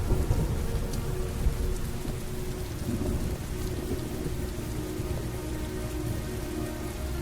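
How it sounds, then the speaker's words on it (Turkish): Heavy, steady rain pours continuously with low rumbling thunder underneath in the video game Heavy Rain, dense and loud, with no voices. "İki yıldır hiç durmadan yağmur yağıyor."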